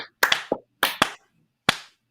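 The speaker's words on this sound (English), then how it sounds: "Slow clap." A few slow, deliberate hand claps, about five sharp smacks spaced unevenly apart with silence between, close and fairly loud, given as a mock round of applause after a talk.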